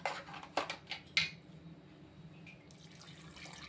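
Water is poured into lentils, tomato and turmeric in a pressure cooker, giving a few quick splashing bursts and pot clinks up front, then a quieter trickling pour that continues faintly to the end.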